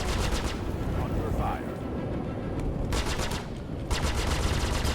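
Gunfire striking a ship in the Star Citizen space game: dense rapid bursts of rattling impacts with brief gaps, loud and continuous over a rumbling engine bed.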